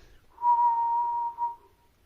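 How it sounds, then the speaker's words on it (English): A penny whistle sounds a single sustained note, clear and fairly loud, held for about a second with a brief wavering lift just before it fades. "Colleen held the penny whistle to her lips and blew one last sad note."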